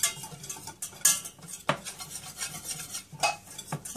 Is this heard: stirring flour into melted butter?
yes